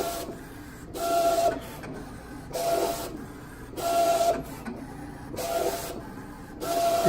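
A Roland CJ-500 printer cutter runs a sticker job, its print head shuttling back and forth in a steady rhythm of whirring passes with brief pauses between them, close and fairly quiet.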